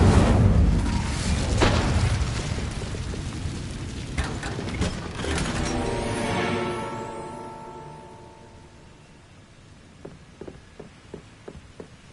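A fire spell, Incendio, is cast in the video game Hogwarts Legacy with a loud, roaring whoosh and booming burst of flame that rumbles and fades over several seconds, followed by faint clicks.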